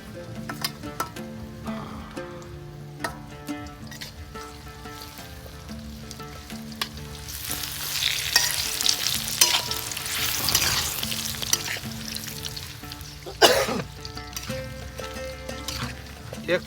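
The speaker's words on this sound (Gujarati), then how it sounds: "ઘી ગરમ થઈ ગયું હો એટલે હવે એની અંદર નાખી દેવું આપણે ખજૂર" Dates drop into hot ghee and fry with a loud, building crackle and hiss, stirred in the pan, close by; the sizzle swells midway and carries on with scraping, outdoors on a farm, with some speech-like sound mixed in.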